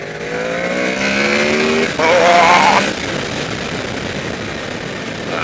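A 2014 Honda VFR800F V4 motorcycle engine revs hard, rising in pitch, then blips sharply once more before dropping back to a steady idle.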